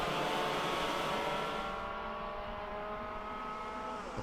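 TKM Extreme karts race around the Kimbolton track, their engines producing a continuous high-pitched buzzing whine that shifts in pitch as they pass, with no talk over it.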